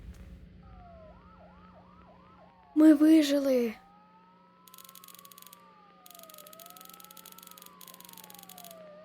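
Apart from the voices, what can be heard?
police siren in video game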